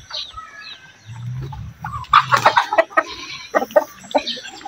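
Native chickens and a large rooster on a farm in rainy weather cluck and cackle close by. The calls come in irregular bursts that grow busier in the second half, over a low murmur, with no clear speech.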